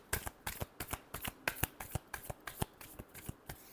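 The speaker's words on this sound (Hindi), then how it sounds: "Last shuffle." Tarot cards are shuffled by hand in a quiet, close, rapid series of crisp riffling snaps and flicks, with no voices.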